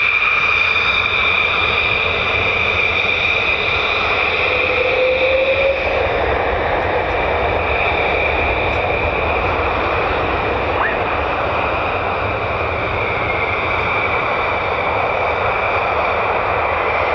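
An F-15 or F-35 fighter jet roars steadily past at RAF Lakenheath, a loud continuous engine rush with a high whine holding throughout.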